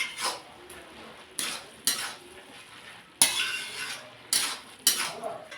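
Cabbage and ground spices with slit green chillies sauté in a pan, with several loud scraping stirs of a spoon over a soft sizzle, coming in separate bursts.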